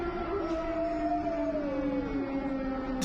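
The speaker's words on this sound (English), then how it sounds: "a little dog in the street decided to try and match the sound of the air raid siren by howling with it" A little dog out in a street howls along with a wailing air raid siren in Ukraine, its rising and falling howl tracing the siren's long steady tone throughout.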